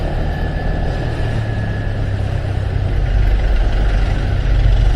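Idling car and truck engines in a morning street traffic jam give off a steady, loud low rumble that swells slightly toward the end, with no talking.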